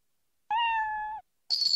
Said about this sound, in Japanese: いいね、猫。